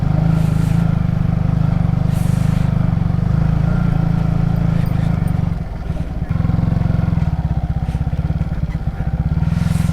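A Yamaha R15 V3 motorcycle ridden on a rough hill road. Its loud, close engine drones steadily, with a brief dip in the middle before the throttle picks back up.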